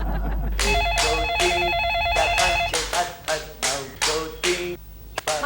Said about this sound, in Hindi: मनु फोन उठाओ